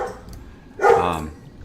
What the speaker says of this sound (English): I'm sorry about my dogs